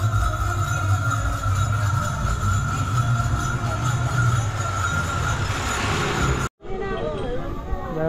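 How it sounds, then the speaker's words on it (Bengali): A train rolls into the Narikul level crossing on the pilgrimage route to Tarakeswar, a loud continuous rumble with rail noise that cuts out abruptly near the end, then resumes more quietly. "রয়েছি নারিকুল রেলগেটে, রেল আসছে, এটাই লাস্ট রেলগেট"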